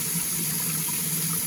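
Water steadily pouring out of a pot of soaked chickpeas with loose skins floating, a continuous close, even gush with no break.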